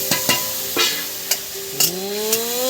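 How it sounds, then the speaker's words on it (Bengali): Onions frying in a pan for a prawn malaikari, a steady hiss of sizzling oil broken by several sharp clacks of a spoon stirring against the pan, with a faint tonal hum rising in the background. "এবার দিয়ে দেবো বন্ধুরা এই যে পেঁয়াজ।"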